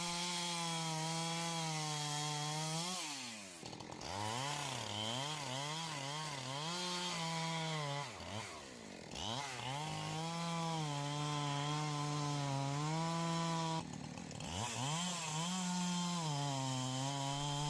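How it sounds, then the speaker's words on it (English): A Husqvarna 372 XP chainsaw felling a tree, engine roaring loud and close with steady high revving, briefly dipping and surging between bursts of cutting. "By using the right equipment, like the Husqvarna 372 XP, the entire felling process becomes quicker and more efficient"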